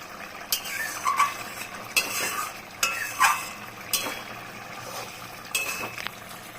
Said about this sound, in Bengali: এখন হাই ফ্লেমে দিয়ে আমি এটাকে ফুটাবো।